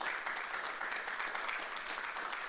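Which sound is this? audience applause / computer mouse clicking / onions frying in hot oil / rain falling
audience applause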